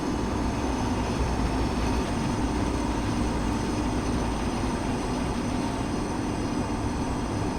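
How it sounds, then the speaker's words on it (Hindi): Train wheels rumble steadily on the rails of an Indian express train in Train Simulator 2022, a dense, continuous rolling roar with faint clatter, loud and close, with no talking. "ट्रैक साउंड ज़बरदस्त"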